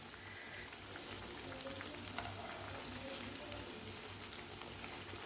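Kebabs fry steadily in a pan for a baingan recipe, giving a continuous low, even sizzle with faint crackles and no voices.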